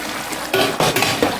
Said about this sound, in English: Ooh, she's bubbling.